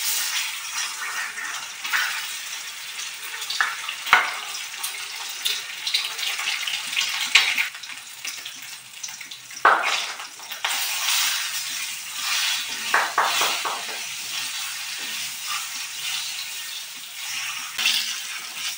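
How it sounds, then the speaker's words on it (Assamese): Eggs fry in a pan for an Assamese home recipe, a steady hiss and crackle of hot oil with occasional louder sputters and scraping as the eggs are turned, with no talking. "এতিয়া মই ধুনীয়াকৈ কণীকেইটা ভাজি কৰি ল'ম"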